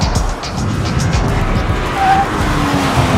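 A 2015 Subaru BRZ with a quick manual shifter and 7,400 rpm redline pulls hard through the gears on a track, its engine note loud and close with a brief tire squeal, no voices.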